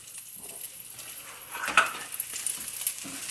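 Soft sizzling from burger buns toasting face down in a hot Copper Chef pan on high heat, with light scraping and a brief clink of the pan, close and fairly quiet.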